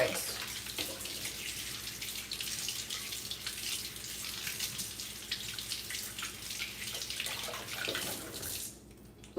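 Tap water running into a sink while makeup brushes caked with foundation are rinsed and squeezed, a steady close splashing flow that continues for several seconds before cutting off at the end.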